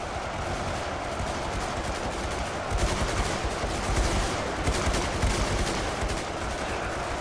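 Rifle gunfire in a video game, a long dense barrage of rapid overlapping shots, loud and continuous, swelling slightly toward the middle with no talk over it.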